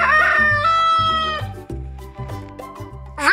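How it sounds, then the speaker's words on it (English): A rooster crows loudly and close, one long drawn-out cock-a-doodle-doo call with a rising squawk at the end. "Rooster."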